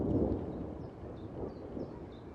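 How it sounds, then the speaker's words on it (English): Low, distant rumbling thunder rolls for a couple of seconds, muffled and steady, heard from inside a car. "We are back in the car because thunder and lightning, very, very frightening."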